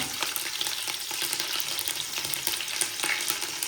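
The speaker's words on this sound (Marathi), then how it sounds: "आमची पनीरची भाजी तेल टाकून तेज पानं टाकली आणि त्यानंतर कढीपत्ता पण टाकला" Bay leaves and curry leaves tempering in hot oil for a paneer curry, giving a steady, close, dense sizzle and crackle with faint stirring, and no voices.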